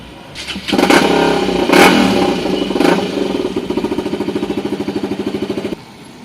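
A Yamaha RX 135 two-stroke motorcycle converted to six speeds revs up loudly and close, with sharp throttle blips, then settles into a rapid, pulsing idle before cutting off.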